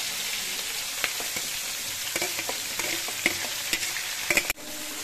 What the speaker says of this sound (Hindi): कड़ी पत्ता भी ऐड कर दिए इसमें और इसको अच्छे से भून लेंगे